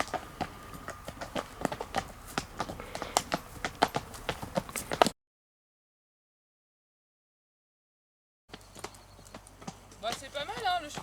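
A horse that had been spooked by tarps walks past, its hooves clip-clopping in a close, steady rhythm for about five seconds. A voice is heard alongside, then a silent gap follows before more sound.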